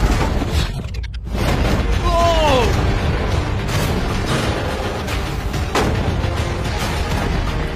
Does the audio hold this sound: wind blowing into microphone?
no